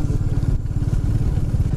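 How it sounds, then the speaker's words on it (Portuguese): Motorcycles rumble past on a rural road near farm properties, a loud, close, continuous engine drone with a low, even pulse. "A galera de moto ali."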